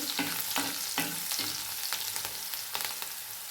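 Finely chopped green chillies sizzle in hot oil in a pan while being stirred, with regular scraping strokes of a spatula against the metal over a constant frying hiss.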